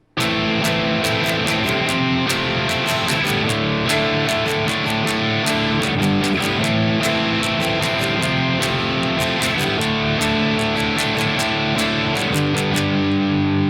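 Distorted electric guitar chords from a song, strummed loudly in a steady driving rhythm with sharp, regular attacks throughout, no talking.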